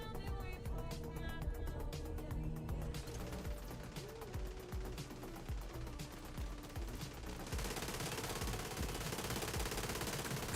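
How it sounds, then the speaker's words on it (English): Rapid bursts of automatic gunfire crackle through a firefight in the video game The Division 2, with dense, steady shooting layered over game music and effects, loud and continuous throughout. "Somebody's gun is going off."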